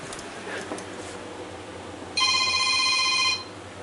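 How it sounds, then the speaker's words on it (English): A telephone rings in the background of a reptile-keeping room where jungle carpet pythons are kept. An electronic ringtone starts partway through and trills steadily for about a second, alone over a faint room hiss. "Phone's ringing in the background."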